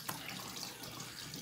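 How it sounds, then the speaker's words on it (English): Water from a tap runs in a steady, soft hiss as cold water rinses the face after shaving, faint and even throughout with no voices. "All right, cold water rinse."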